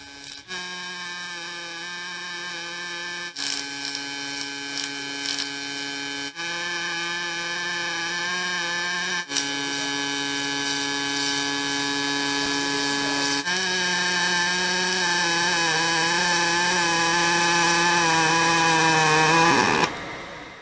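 A Migatronic welder runs in PowerArc Pulse mode, making a loud, steady electric arc buzz with a strong tonal hum that shifts pitch in several abrupt steps and then cuts off at the end.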